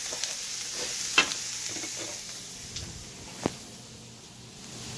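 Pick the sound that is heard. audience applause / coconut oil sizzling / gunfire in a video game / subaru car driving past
coconut oil sizzling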